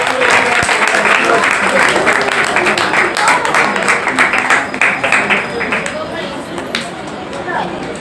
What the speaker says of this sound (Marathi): टाळ्या चालू राहू दे समीक्षेसाठी